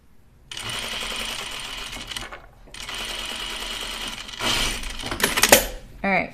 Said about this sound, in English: I sewed my waistband right side to inside